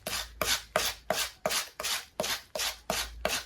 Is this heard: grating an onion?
yes